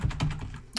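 Computer keyboard keys are pressed in a quick burst of several soft clicks and taps, close and clear with no talking.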